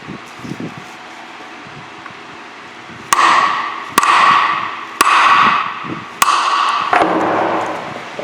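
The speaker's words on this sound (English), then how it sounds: "I'm going to use a center punch here, create a small hole to get our drill bit started" Four hard metallic strikes of a hammer driving a center punch into metal, each sharp impact followed by a ringing decay, spaced about a second apart after a quiet stretch.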